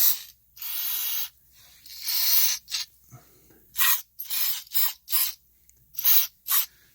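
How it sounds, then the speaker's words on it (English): Light electronics cleaner, a mass airflow cleaner, sprayed into a noisy Honda CR-V blower motor in a series of sharp, close hissing bursts of varying length, separated by short silences. "This is mass airflow cleaner, but it's a light electronics cleaner. You could spray this down."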